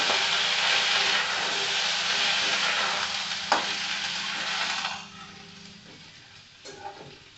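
Potatoes and papaya sizzle and hiss in a hot pan in a home kitchen while being stirred. The frying stays loud and steady before easing off, with a couple of brief utensil knocks against the pan.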